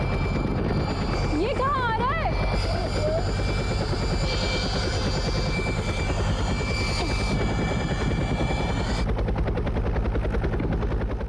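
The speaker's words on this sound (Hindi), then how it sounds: "अरे हेलीकॉप्टर" A helicopter roars close and steady, its heavy rotor drone filling the whole stretch while people talk over it.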